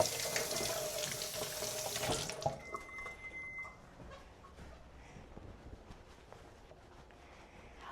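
Water runs steadily from a kitchen tap for about two seconds while something is rinsed off, then shuts off, leaving quiet kitchen clatter and faint handling noises.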